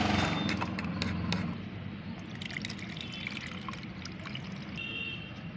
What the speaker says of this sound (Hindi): तो मैं इसे छान लेती हूँ।